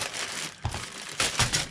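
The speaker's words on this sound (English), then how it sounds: "And the last white plastic bag, a little bit bigger of a bag." A white plastic bag from a Revell Bronco Buggy and trailer model kit crinkles close up in short, loud bursts of rustling, alone without talk.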